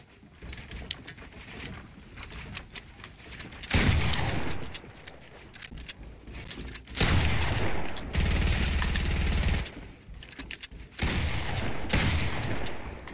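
Gunfire aimed at the player in Fortnite, bursts of rapid shots coming in several loud clustered volleys with quieter gaps between, steady and close, no talk over it.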